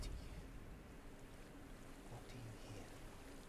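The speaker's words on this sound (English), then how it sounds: "I hear water." Water laps and rushes softly at low volume beneath a windy, breezy ambience in the Hellblade: Senua's Sacrifice video game.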